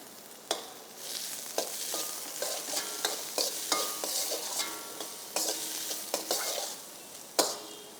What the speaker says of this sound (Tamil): நன்றாக வதக்க வேண்டும்.